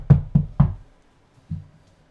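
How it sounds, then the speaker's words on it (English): Knocking on a door: three quick, loud knocks in a row, a pause, then one softer knock, heard alone with no talking. "Ethan, just knock on my door."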